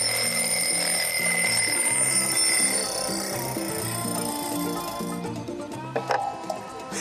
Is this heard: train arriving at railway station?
no